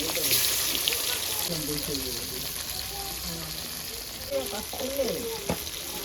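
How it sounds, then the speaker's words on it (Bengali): A paste of onion, ginger and green chili fries in hot oil for a vetki fish dish, a continuous bright sizzle with stirring scrapes, while a voice talks quietly over it. "তেলের মধ্যে সুন্দর করে আমি সব ভেজে ভেজে মিশাবো"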